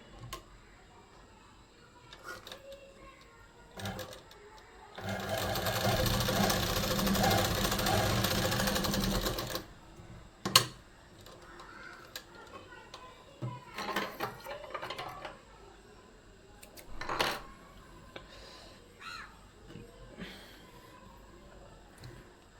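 Sewing machine stitching a gents kurta pajama: one steady run of close stitching lasting several seconds, then scattered ticks, clicks and handling noises at a quieter level.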